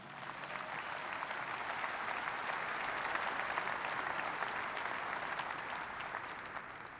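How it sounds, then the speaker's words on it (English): Steady applause from the audience at an NRA leadership forum, a broad, even wash of many hands clapping that swells slightly and then eases, heard from a distance. "let's give them a round of applause"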